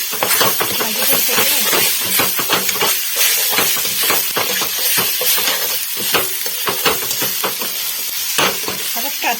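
Spice masala from a packet fries in a hot pan, a loud, close, continuous sizzle and hiss broken by quick, busy scraping strokes of stirring, with no talking over it.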